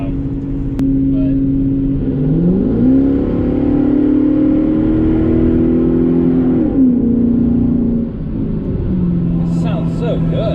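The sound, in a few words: Infiniti car engine running and revving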